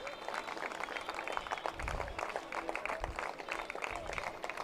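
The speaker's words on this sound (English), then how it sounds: "See the fans standing up, cheering on the senior" Fans at a college baseball game for MSU Denver stand, cheering and applauding steadily throughout, a dense crowd wash with scattered claps and shouts at moderate distance.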